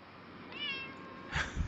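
A cat meows from inside a car, heard as playback: one drawn-out rising meow followed by a short, louder second cry with a bump of handling noise.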